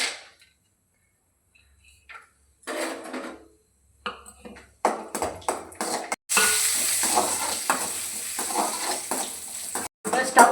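Cashews and raisins frying in ghee for somas, a soft crackling sizzle that starts faint with quiet gaps, then grows steady and fuller alongside occasional stirring clatter and brief talk.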